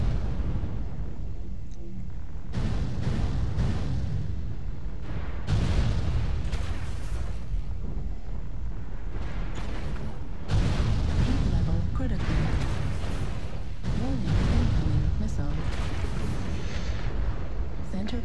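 Incoming missile impacts in the video game MechWarrior Online land as heavy, booming explosions, several in sequence a few seconds apart, over a constant rumbling battle backdrop, with a voice speaking at times.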